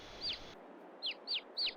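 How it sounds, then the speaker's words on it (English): Baby chickens calling with four short, high, sweeping peeps, one then a pause, then three in quick succession, close by and fairly clear. "Should we look at the baby chickens?"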